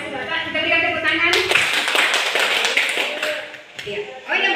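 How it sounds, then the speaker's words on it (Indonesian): Audience clapping at a school teachers' presentation, a short burst of hands rising suddenly and holding for a few seconds before tapering, with voices talking over and around it. "Kita berikan tepuk tangan."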